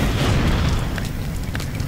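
Fire burning in Far Cry 2, a dense, steady roaring rumble with crackling bursts, loud and close throughout with no talk.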